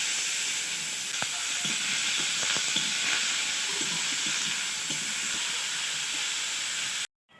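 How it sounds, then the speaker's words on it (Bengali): Sliced ridge gourd frying in hot oil for a fish curry, a steady hiss and sizzle running throughout with occasional small crackles, close and fairly loud, before cutting off abruptly near the end. "তেল দিচ্ছি, মাছের ঝালের ঝিঙেগুলো একটু ভেজে নিচ্ছি।"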